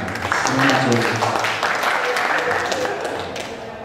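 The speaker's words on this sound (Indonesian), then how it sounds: "Tepuk tangan untuk kita semua." A crowd applauds at an art seminar, a warm wash of clapping lasting a few seconds, with murmured voices mixed in.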